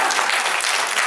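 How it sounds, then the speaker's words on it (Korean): Audience applause at an international development cooperation conference in Korea, a dense, steady wash of clapping from a crowd that holds evenly loud through the whole brief moment. "박수!"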